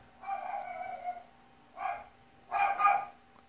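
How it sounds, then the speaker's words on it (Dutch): A small dog indoors barks at someone arriving at the door, giving a drawn-out bark followed by two shorter ones, faint and somewhat distant, with a steady background hum. "mijn hondje hoor je blaffen"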